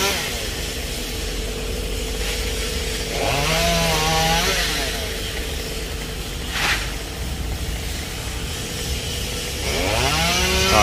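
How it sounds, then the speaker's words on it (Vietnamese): A chainsaw revs and whines nearby, pitch swooping up as it bites into branches of a Dipterocarpus (dầu) tree beside an old iron fence, with a steady engine drone between cuts. "anh sẽ cưa gọn mấy cái nhánh"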